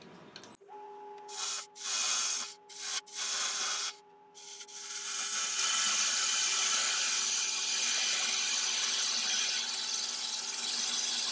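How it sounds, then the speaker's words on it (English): A 3/8 ball gouge cutting a Balinese teak hollowform vase on a spinning lathe, with a steady motor hum, a few short scraping bursts, then a long, continuous, loud rasping cut. "So we're just going to start off with a 3/8 ball gouge."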